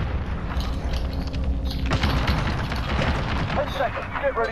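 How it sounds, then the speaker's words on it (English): Grenade explosion in the video game Warzone during multiplayer combat, a loud boom around the two-second mark within dense battle noise and rumble, with voices talking over it. "Grenade out!"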